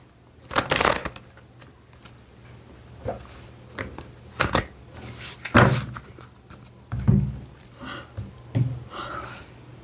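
Tarot cards are cut and split into piles by hand, giving a series of sharp, close riffling slaps and soft shuffles in irregular bursts with quiet pauses between them.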